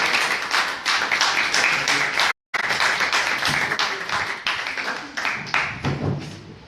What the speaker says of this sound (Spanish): les ruego que los recibamos con un aplauso